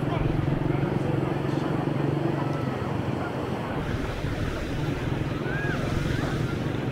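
Waves wash steadily onto the Caspian Sea beach at Mahmood Abad in Mazandaran, Iran, a continuous surf roar mixed with gusty wind noise on the microphone throughout.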